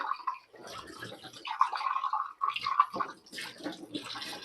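Water pours into a glass at home in a close, continuous gurgling stream with small splashy breaks, and no voices are heard.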